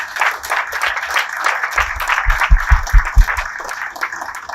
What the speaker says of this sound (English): So I want the whole room to clap hands for these people.